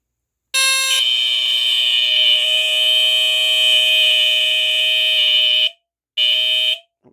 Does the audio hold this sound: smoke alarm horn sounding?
yes